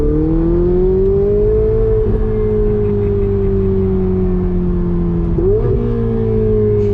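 Ferrari 488 Spider engine pulling hard while driving, a loud, steady rising drone with two brief dips at gear changes before climbing again, close and continuous with no talk.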